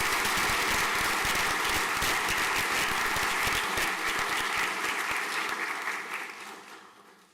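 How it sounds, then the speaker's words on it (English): Sustained applause from a large crowd at a school prizegiving, steady and full for several seconds, then gradually fading away. "A round of applause there, please."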